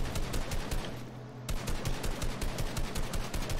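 Assault rifle or shotgun fire in a video game, loud rapid bursts of shots in a fast rhythm that break off briefly and then resume with no speech.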